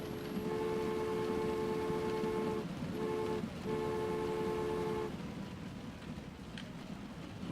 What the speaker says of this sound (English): Who's honking their horn?